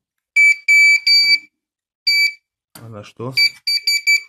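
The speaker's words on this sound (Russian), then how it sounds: "А, он пищит на штатив." A SHRXY GP Pointer II pinpointer metal detector emits loud, high, steady electronic beeps in short bursts and repeated pulses, sounding off near a tripod, with someone speaking briefly in between.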